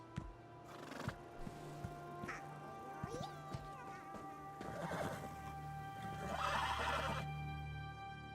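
Horses neighing and whinnying in The Elder Scrolls Online, with clear clip-clop hoof steps through the first seconds and drawn-out whinnies rising near the middle and end over a steady ambient game backdrop.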